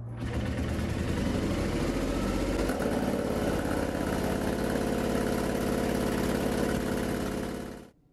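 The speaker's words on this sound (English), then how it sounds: "as you just heard, the range extender has started" The range extender engine of a BMW i3 REx running in emission inspection mode, a steady, loud, close engine drone holding evenly for several seconds before cutting off abruptly at the end.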